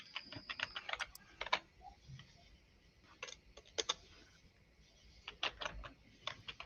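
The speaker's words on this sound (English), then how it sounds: "I hear you typing." Typing on a computer keyboard, close and faint, in irregular bursts of quick clicks separated by brief pauses, with no talking.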